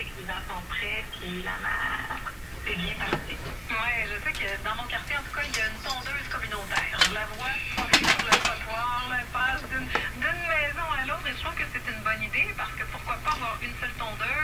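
A Rogers Majestic 9R512 tube radio tuned to 865 plays a broadcast station with talk coming through, tinny and slightly crackly, with a steady low hum underneath and occasional static bursts.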